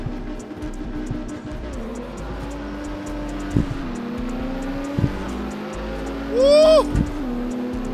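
Drag-race cars in CarX Street, including a Porsche, a Honda and an M5, holding a steady engine drone with a few sharp gear-shift spikes and a brief rising tire squeal near the end, while a voice cheers once.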